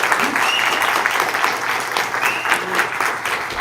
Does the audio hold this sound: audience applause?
yes